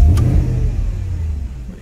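A 2013 Porsche Cayenne GTS with a shuddering all-wheel-drive fault fires up, a loud close burst of engine roar that quickly settles into a lower, steady running rumble.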